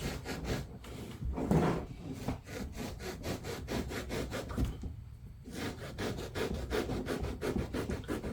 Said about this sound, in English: See how that hacksaw blade just goes right through the foam, right?